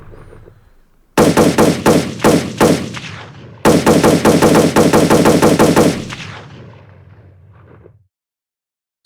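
Video game machine gun fire in rapid bursts, loud and close, with two long strings of shots separated by a short pause, then a fading tail and silence at the end.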